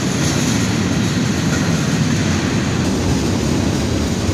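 Long CSX manifest freight train rolling past up close, a loud, steady roar of wheels and rumbling cars on the rails with no breaks, no voices.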